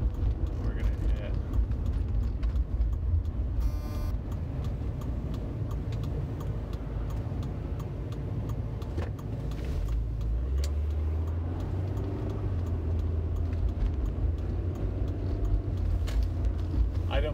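A car drives along with a steady low engine and road rumble filling the cabin, while a person talks continuously over it.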